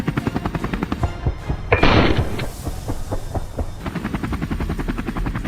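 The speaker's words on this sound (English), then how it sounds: "The helicopter swiftly maneuvers to close in on the prey" A helicopter flies low over a field while hunting wild boars, its rotor thudding in a fast, loud, steady rhythm with a brief burst of rushing noise partway through.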